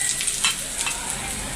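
Mustard seeds and lentils sizzle and crackle in hot sesame oil for a spicy chutney, a loud, close, continuous frying hiss with scattered pops and no talking.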